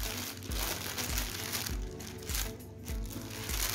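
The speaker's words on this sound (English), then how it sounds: "let's open it and let's use the scissors to open." A diamond painting kit package being opened with scissors: soft, close crinkling and rustling of plastic wrapping with light rhythmic handling thumps, quiet throughout.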